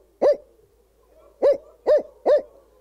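A person imitating a barred owl call with the voice, four loud hoots, one alone and then three in quick succession, close and clear over a quiet background.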